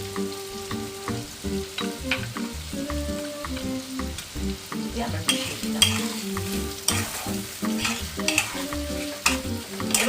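Salted onions fry in a pan for a light Bengali chicken curry, crackling softly while a utensil stirs in repeated scraping and clinking strokes, close and fairly quiet, with no speech.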